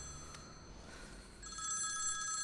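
A telephone ringing in a scene from a Tamil feature film, a faint electronic ring with a short trill that grows steadier and louder toward the end, heard without talk.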